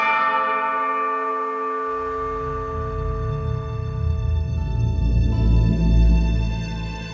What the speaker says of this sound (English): these big bells which feel like the ones we hear in the Eternal Cities